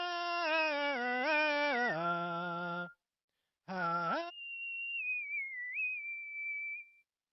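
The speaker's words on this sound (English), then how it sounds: "it turns it into a whistling sound." A ZOOM V6 vocal effects pedal turns a voice into a whistle, giving a bright harmonic whistled melody with pitch bends. It breaks off briefly, then returns and settles into a long, steady, slightly wavering pure whistle tone that stays loud and clear throughout.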